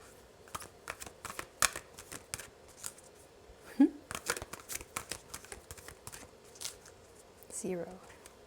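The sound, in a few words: shuffling cards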